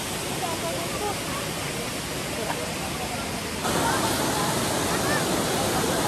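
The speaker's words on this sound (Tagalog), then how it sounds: "May falls dyan. May falls naman dito." Cambugahay Falls in Siquijor pour as a dense, steady rushing roar of water, close and loud, growing noticeably louder partway through.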